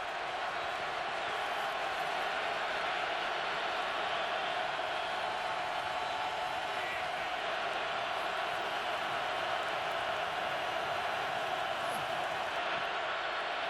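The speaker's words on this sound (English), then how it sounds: "Wait till you hear this eruption from this crowd." A packed NFL stadium crowd roars at a Monday night Chargers at Chiefs game, a dense, sustained wall of cheering that holds steady throughout, with faint commentary voices beneath.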